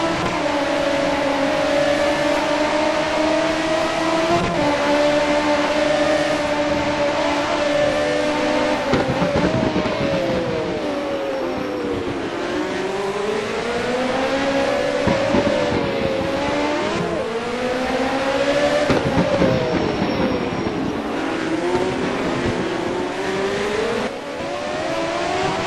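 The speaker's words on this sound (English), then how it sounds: "Dale Farmer revving up against the wall a bit." Formula One race car engines from the rFactor video game, set in a 1979 Monaco race, rev and scream continuously. Several cars rise and fall in pitch through repeated acceleration sweeps and pass one another, loud throughout with no talking.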